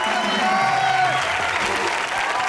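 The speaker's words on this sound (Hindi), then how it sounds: "और जोरदार ताली हो जाए हनी सिंह के" Studio audience applause for Honey Singh on a comedy show set, dense and steady throughout, a loud wash of many hands clapping at once.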